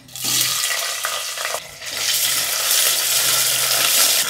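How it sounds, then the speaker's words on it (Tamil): Onions frying in a pot with whole spices for mushroom dum biryani make a steady, close sizzle that fills the whole stretch, with a short dip midway, and no one speaks. "வெங்காயம் வந்து இப்போது பொன்னிறமாக வதங்கணும்."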